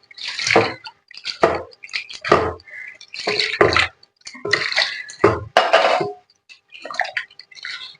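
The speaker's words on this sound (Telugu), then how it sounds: "ఇప్పుడు వాటర్ పోసుకుంటాను" Water poured into a cooking pot in a home kitchen, heard as a run of separate splashy bursts and trickles close by, with short pauses between pours and no talking.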